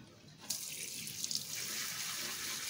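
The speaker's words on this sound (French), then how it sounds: "Donc je rince les graines avec le petit jet." A small water jet hisses steadily as it rinses tomato seeds held in a mesh strainer, starting abruptly and then running as an even, close spray with no talk.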